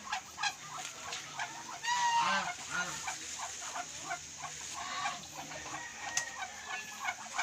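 Pet ducks and geese on a countryside farm in the Philippines, fed Indian mango, keep up a steady stream of overlapping clucking and honking calls at moderate distance, with a louder flurry midway and no talking.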